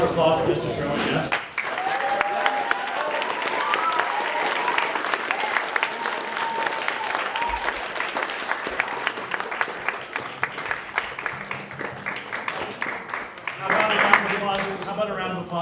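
At a 2022 KPMS MICCA middle school band performance and clinic, the audience gives Mr. Sherman a long, even round of clapping that lasts about twelve seconds, with a speaker's voice at the start and end.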